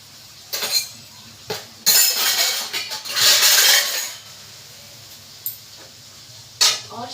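Cabbage and carrot sizzle in a kadhai, with hissing bursts that rise and fall as a metal utensil clinks and scrapes against the pan; nobody speaks.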